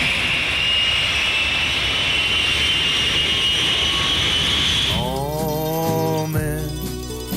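A jet airliner roars steadily and loudly, its broad engine noise filling the first five seconds before abruptly giving way to a different, tonal musical texture.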